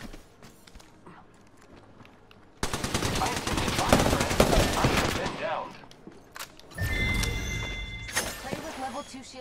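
Sustained automatic gunfire in the video game Apex Legends, starting abruptly after a quieter stretch, then a second loud burst near the end, with players talking throughout.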